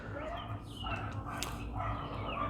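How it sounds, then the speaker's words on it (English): Dogs bark and yap in the distance, small sharp repeated calls over a steady low background hum, with no one speaking. "yap bark to them. And they just never stop."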